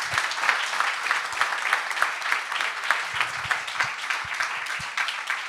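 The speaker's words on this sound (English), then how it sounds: "can we get a round of applause for these amazing panelists?" A panel audience applauds the presenters, with dense, steady clapping from many hands filling the whole stretch at an even level, no voices rising above it.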